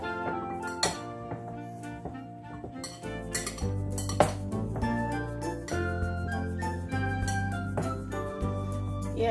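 A spoon clinks and scrapes in a bowl while paneer is mixed with spicy masala and a spoonful of water, giving repeated metallic taps and jingles over steady tonal background music.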